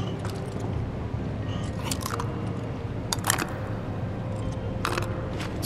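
Crunchy bites and chewing of Achao beans in Final Fantasy VII Remake: a few crisp bursts over a steady, busy in-game background hum, with no talking.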